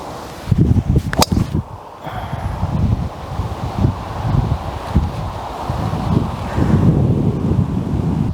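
Gusting wind buffets the microphone on an open golf course, a steady roaring rush with a sharp click near the start, loud and close throughout, with no voices.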